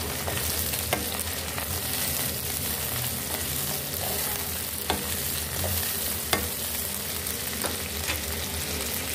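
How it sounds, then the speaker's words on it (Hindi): Curry leaves, red chili and cut garlic fry in hot oil for daal, giving a steady close sizzle with occasional spatters and stirring clinks, no talk. "इसको भी हमें फ्राई कर लेना है"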